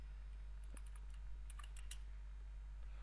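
Quiet clicks of a computer keyboard come in short bursts of keystrokes over a steady low electrical hum, close up and with no voices.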